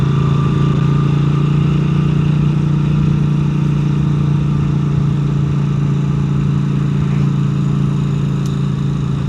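Norton 961SP Commando motorcycle, engine droning loud and steady with a deep sustained hum, no talking.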